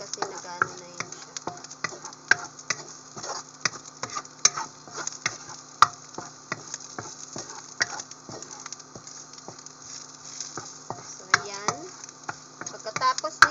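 Garlic frying in a pan for spicy shrimp fried rice, a steady close sizzle dotted with sharp crackles and ticks, with a voice talking faintly at times.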